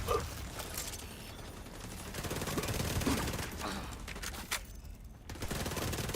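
Sustained automatic turret gunfire in a hardcore-mode video game, a dense loud rattling stream of shots that barely lets up over several seconds.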